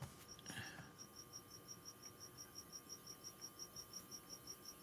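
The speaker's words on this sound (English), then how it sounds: "you don't hear my cricket? I sure hear him." A cricket chirps steadily in rapid, regular pulses, faint and continuous against a quiet background.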